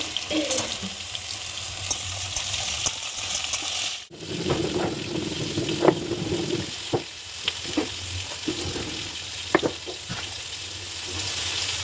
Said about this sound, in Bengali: আলু আর কলাটা ভাজা ভাজা হয়ে গেছে। পেঁপেটাও শক্ত, তো আমি এই অবস্থায় পেঁপেটাও ওর মধ্যে দিয়ে দিচ্ছি।